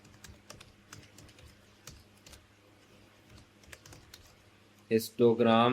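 Typing a file name on a computer keyboard: a string of light, irregular key clicks close by, followed at the end by someone speaking.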